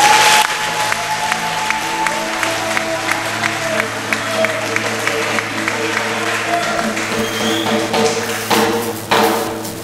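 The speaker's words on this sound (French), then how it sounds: "Des applaudissements très nourris pour Diaoufoué." A crowd at a Front Commun political rally in Bonoua, Côte d'Ivoire claps in scattered, rhythmic bursts over a humming sound system, fairly close and moderately loud, swelling briefly near the end.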